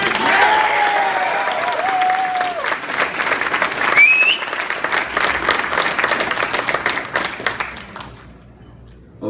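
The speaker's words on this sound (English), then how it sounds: "So please give him a better round of applause than what y'all just did." A conference crowd gives a sustained round of applause at a fitness expo business talk, dense clapping filling the room for about eight seconds before tapering off, with a few whoops and voices mixed in.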